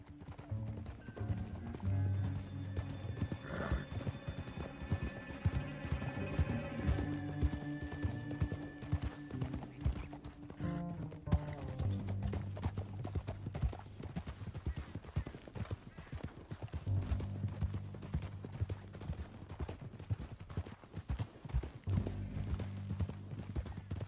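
Horses gallop in Red Dead Redemption 2 as a gang rides through a canyon, rapid clip-clop hoofbeats running continuously under a swelling orchestral game score for the full length.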